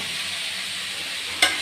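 Leftover rice frying with garam masala in a pan: a steady soft sizzle, ending in a brief sharp scrape or clatter near the close.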